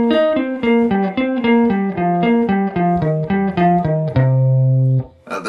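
A guitar plays a descending pentatonic scale in repeating groups of four notes, clean and evenly picked in a steady rhythm, ending on a sustained low note before fading, with no voices.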